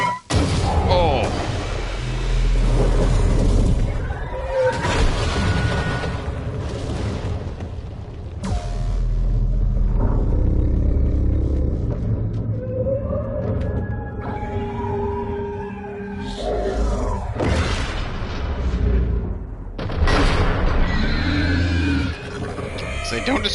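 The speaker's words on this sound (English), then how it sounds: "That is a big Thresher Maw." A huge Thresher Maw creature in Mass Effect 3 rumbles and roars in deep, heavy bursts, with loud booming low-end swells over game noise, while someone talks over much of it.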